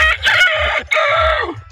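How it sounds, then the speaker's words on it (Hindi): A rooster crows loudly and close by in two long, strained calls, the second trailing off into a falling rasp, with nothing else heard. "मुर्गे भी कहने लग गए"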